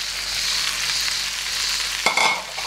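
Potatoes frying in a pan for soufiko, a loud, even hiss of hot oil close up, then a sudden clatter and burst of crackling near the end as more goes in or is stirred, no voices.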